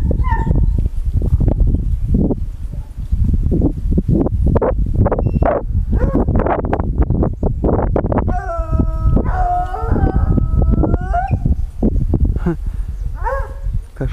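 Hunting dogs bay and howl during a wild boar hunt outdoors, a loud, near chorus of overlapping yelps and drawn-out howls, with people talking excitedly over them.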